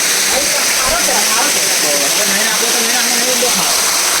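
A small waterfall near a hilltop Mahadev temple on Devhatra hill by Rajapipla, Gujarat, rushing loudly and steadily up close, with a voice faintly heard beneath the constant splashing.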